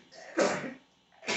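A man sneezes once, close and fairly quiet, with a soft breathy intake before the burst and another short exhale at the end, in a garage while working on a 1980 Triumph TR7's electrics.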